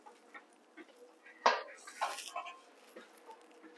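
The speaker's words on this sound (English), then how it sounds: "Let's bring that pan over." A pan is shifted across a home kitchen, a sharp metallic clatter followed by a short scraping rattle, close and fairly quiet in an otherwise still room.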